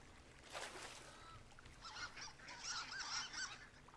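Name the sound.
duck calling, from the video game Firewatch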